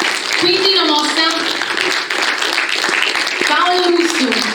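A crowd at the Città di Olbia literary prize presentation keeps up sustained applause for the jurors, a full unbroken patter of hands with speech layered on top.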